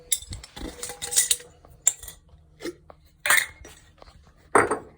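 Empty glass mason jar handled on a kitchen counter with its lid taken off: a few separate clinks and knocks of glass and metal, close and fairly sharp, with quiet gaps between them and no talk.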